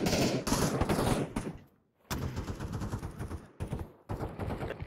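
Rapid video game gunfire sounds in loud, dense bursts. Short gaps break it up between the volleys.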